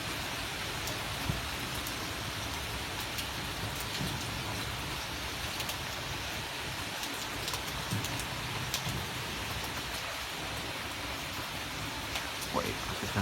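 Heavy rain pours steadily during a thunderstorm at night, a dense continuous hiss of drops close by with faint scattered sharper patters and no clear thunder claps.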